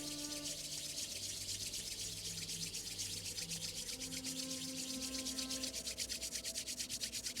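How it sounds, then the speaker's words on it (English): Palms of two hands rub briskly together in a steady back-and-forth friction rhythm, a continuous close swishing that runs throughout over a soft low ambient bed, with no talking. "bring your hands together, and then as you do, start to rub, creating a little friction and heat between the palms of your hands"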